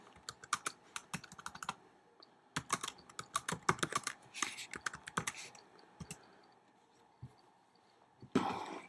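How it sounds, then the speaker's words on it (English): Fast bursts of computer keyboard typing in clustered runs with short pauses, close and clear, with no speech over it. "just type it in"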